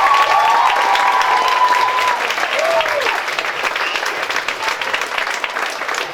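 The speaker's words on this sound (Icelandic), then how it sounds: "Gefum þriðja bekk gott klapp." An audience at a school play claps for a third-grade class: dense, sustained applause that fades slightly toward the end, with a brief whistle or cheer near the start.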